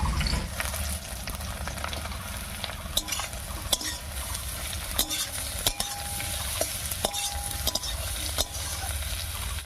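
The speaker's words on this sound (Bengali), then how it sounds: "পেঁয়াজের উপরে উচ্ছে দিয়ে একটু নাড়িয়ে নিয়েছি" Sliced bitter gourd sizzling on lightly fried onions in a pan while being stirred, with a continuous close frying hiss and repeated sharp scrapes and clinks of the utensil against the pan.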